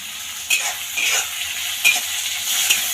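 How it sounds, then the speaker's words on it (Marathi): Tomatoes and onion frying in a pan, a bright continuous sizzle with a few sharp spatula scrapes and stirs at intervals, close and without voices. "टोमॅटो पण ह्यामध्ये दोन ते तीन मिनटं व्यवस्थित फ्राय होऊ द्यायचे"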